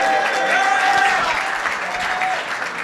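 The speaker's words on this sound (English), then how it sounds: "Give yourselves a big round of applause." An audience at a gala applauds with dense, sustained clapping that swells and then slowly tapers, with a voice briefly speaking over it.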